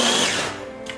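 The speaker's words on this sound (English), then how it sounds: "I finished grinding out my Oreos" A power tool grinding a package of Oreo cookies into crumbs, a loud close motor whine that spins down and fades near the end, with no voices.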